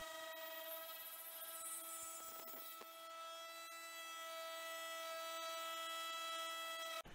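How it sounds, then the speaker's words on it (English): A router cuts new lenses for Lewmar boat portlights, a steady high whine with strong tonal harmonics and a continuous rasping cut, close and constant, ending abruptly. "Then the routing begins."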